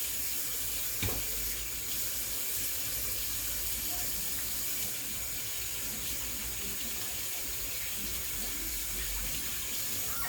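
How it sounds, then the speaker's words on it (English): A tap runs steadily into a kitchen sink while hands are washed during salmon and Brussels sprouts supper prep, with a continuous hissing gush and a faint voice underneath. "I wash my hands consistently and constantly"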